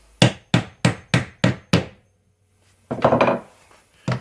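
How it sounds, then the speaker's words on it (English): A hammer drives nails into a wooden beehive frame: six sharp, evenly spaced knocks, then a pause and a quicker, denser flurry of blows, close and loud. "a quick knock with the hammer"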